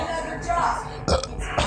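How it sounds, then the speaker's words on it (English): A Minecraft-style burp sound effect plays during a Five Nights at Freddy's 2 game stream, short and loud, repeating in quick bursts over steady voice and game audio. "why return with the Minecraft burps?"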